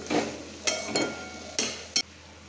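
Bitter gourd curry sweetened with jaggery is stirred in a pan, giving about four short scraping strokes of a spoon against the pan over a faint background, with no talking.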